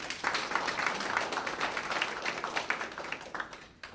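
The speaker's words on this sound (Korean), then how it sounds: "대표님께 다시 한번 박수 부탁드립니다" At a food and drug safety forum, an audience applauds a presenter after a talk; brisk, fairly faint clapping from a modest crowd runs throughout and tapers off near the end.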